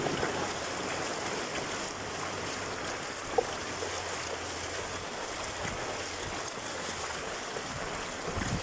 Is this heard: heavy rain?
yes